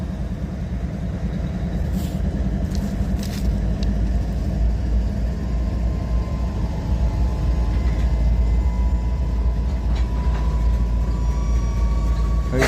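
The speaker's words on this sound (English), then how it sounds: "He's pulling it with a locomotive." A locomotive pulling a freight train through Abbeville: continuous loud low rumble of engine and rolling cars, with faint metallic squeals and clanks over it.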